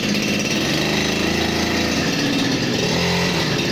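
A TD40 petrol grass cutter engine runs loudly and steadily at close range, a continuous buzzing drone with slight pitch wobble near the end.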